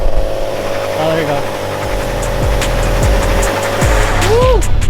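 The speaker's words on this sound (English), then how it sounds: "A little bitty burnout." A turbocharged V6 Maserati runs under load in a short burnout, its engine droning steadily with a few rising and falling pitch swoops, while people talk loudly over it nearby.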